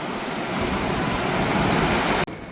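An air blower drying a car at a car wash service centre, a loud continuous broadband rush of air that cuts off abruptly near the end before resuming; no talk.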